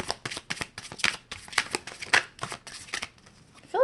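A deck of tarot cards is shuffled by hand at close range, with rapid riffling bursts in quick succession, then a short pause and a faint final rustle.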